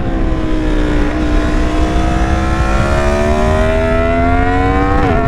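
A Yamaha MT10 motorcycle fitted with a bigger sprocket roars loud and close under the rider, its engine note climbing steadily while accelerating, with a brief dip near the end.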